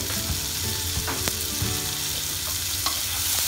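Tomatoes with salt and sugar sautéing in a pan, a dense close sizzle with frequent scraping stirs of a spatula, continuous and without talk.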